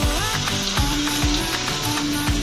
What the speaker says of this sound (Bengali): আমি এখন চাউমিনটা ঢেলে দিলাম